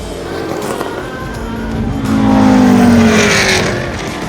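A Supercars race car at Adelaide Motorsport roars past on track, its engine note swelling from a steady drone to a loud peak midway and then fading as it goes by.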